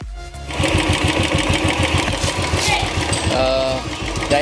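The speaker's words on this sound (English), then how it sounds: "it's time to start the vehicle, heat the engine" A Royal Enfield Classic motorcycle starts up, then settles into a steady, loud thumping idle with an even single-cylinder beat that runs the whole time.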